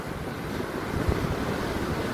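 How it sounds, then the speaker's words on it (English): Ocean surf at Kuta beach in Bali roars in a continuous loud wash of breaking waves, with a swell building midway and wind buffeting the microphone. "So I was coming in places with huge waves like this."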